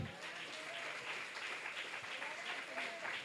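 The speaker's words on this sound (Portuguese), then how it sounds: "vamos aplaudir o Senhor?" Steady applause from a church congregation at a Sunday service, a dense even patter of clapping lasting throughout at moderate volume.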